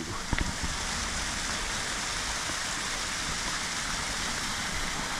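A waterfall beside stepping stones at Alton Towers gives a steady, loud rush of water that holds unchanged throughout, with a couple of faint knocks near the start.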